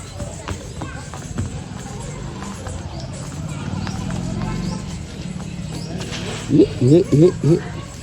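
Mare's hooves clip-clop in a quick run of steps near the end, over steady background chatter and ambient noise.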